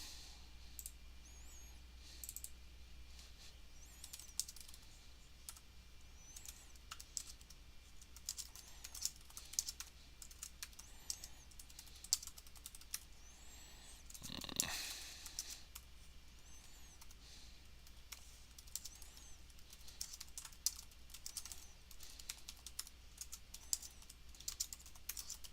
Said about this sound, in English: I like typing it out